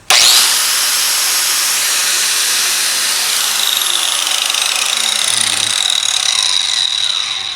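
A Makita angle grinder runs free at full speed, a loud, steady high-pitched whir that holds without a break from start to finish, with no voices.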